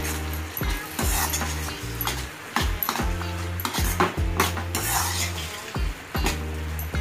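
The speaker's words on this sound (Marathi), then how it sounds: "आणि याला मिक्स करून घ्यायचे" Marinated soybean balls are stirred into chilli sauce in a metal pan, a steady rhythm of spatula scrapes and clinks over a soft sizzle, close and fairly loud throughout.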